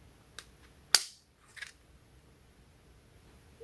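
Semi-automatic CO2-powered .177 caliber BB air gun firing: a faint pop followed by one sharp, close crack, then a softer shot trailing off, with quiet room background between.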